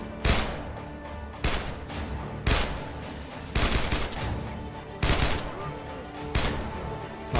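In the game State of Decay, a gun fires at a gate in sharp single shots spaced about a second apart, each one a loud crack with a brief decay, over quiet background ambience.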